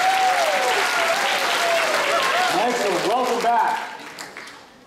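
Loud, continuous audience clapping at a physics show about Galileo, with a voice speaking over it before the applause fades out.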